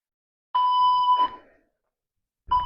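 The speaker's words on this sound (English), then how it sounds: "I've got my handy timer over here. I better make sure the volume's up" A handheld workout timer gives a loud, steady electronic beep of about three-quarters of a second, falls silent, then starts a second beep near the end, with no talk over it.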